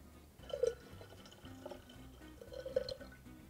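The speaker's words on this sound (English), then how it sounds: "To this, we're going to add all of our freshly squeezed lime juice." Freshly squeezed lime juice poured into a pitcher holding a little over two gallons of water gives soft, faint splashing and dripping in a couple of brief bursts.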